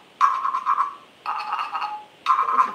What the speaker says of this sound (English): And if I run my beater up and down, it sounds like this.